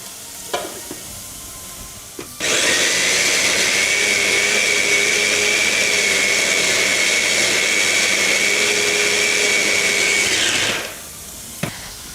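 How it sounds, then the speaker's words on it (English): A kitchen grinder blending one tomato runs as a loud, steady whir for about eight seconds, starting abruptly and cutting off with a quieter tail, with small knocks before and after. "using the same grinder, I'm going to put one tomato"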